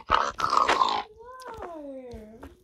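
Minecraft pigs grunt in a quick cluster of rough, snorting sounds, followed by a few gliding, whine-like tones, close and fairly loud in the game.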